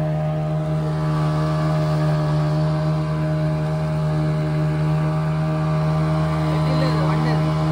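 A fishing boat's motor runs loudly and steadily on the water, a constant droning hum with a strong tonal whine that holds unbroken from start to finish.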